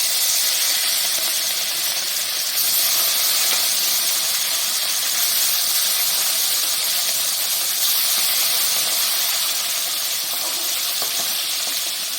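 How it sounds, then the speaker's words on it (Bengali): Steady, loud sizzling and hissing of bata fish frying in hot oil, continuous and close without a break. "প্রথমে মাছগুলোকে ভেজে নিতে হবে"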